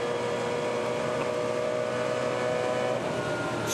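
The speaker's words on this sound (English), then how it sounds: "Just on the rev limiter again on the run into the chase." A Touring Car Masters race car at Bathurst holds a high, sustained engine wail near its rev limiter, the steady strained tone dipping slightly near the end with no talk over it.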